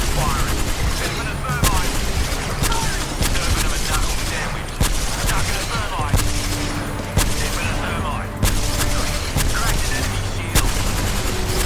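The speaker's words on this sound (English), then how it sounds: "Hey, we have shots over here." Automatic weapon fire in the video game Apex Legends, dense rapid bursts of shots and booms running almost continuously, loud and close, with players talking over it.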